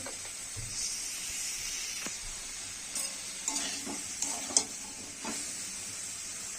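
Tomato, ginger paste, cumin and turmeric fry in a pan as the base for a cauliflower-and-potato fish curry, giving a low continuous sizzle with occasional stirring scrapes and soft pops.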